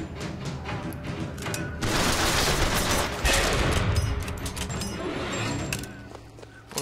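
Gunshots ring out in BioShock Infinite, a run of sharp cracks building into a dense, loud volley of rapid fire that lasts several seconds before thinning out, with no talking over it.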